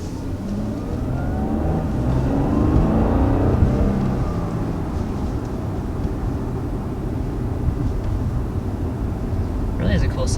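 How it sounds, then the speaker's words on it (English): A 2019 Audi A7 Sportback's turbocharged engine drones from inside the moving car with a faint rising whine. Steady road and engine rumble fills the whole stretch. "Yeah, it has like almost a whine to it. Yeah, you can hear the turbo."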